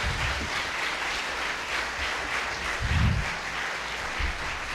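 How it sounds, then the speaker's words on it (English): An audience at a Boca Raton city council candidate forum applauds the candidates, a steady wash of clapping heard from within the room that carries on throughout. "Please give all the candidates a round of applause."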